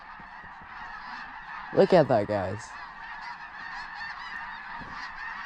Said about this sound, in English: How many ducks are up there? And they're still coming too.